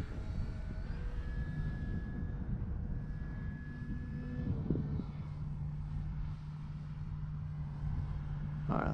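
E-Flite Carbon Z Cessna 150T electric RC plane flying over a field with a steady motor whine that shifts pitch as it passes, under constant outdoor background noise.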